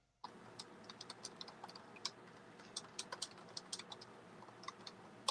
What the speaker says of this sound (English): Please enjoy the typing while I type.